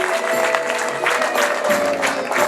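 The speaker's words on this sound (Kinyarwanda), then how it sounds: "Ariko se amashyi yanyu yakonje tubatiza yandi" Wedding guests clap together in a lively burst of applause, mixed with loud crowd noise and some voices or music underneath, fairly close and sustained.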